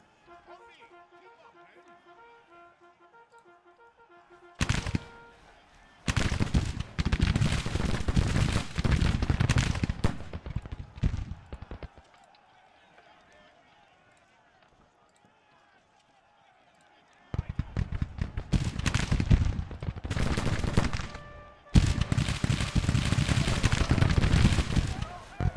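Musket volleys from a firing line in the Civil War strategy game Grand Tactician, with dense crackling bursts of rifle fire in several long stretches, separated by quieter gaps of ambient game sound.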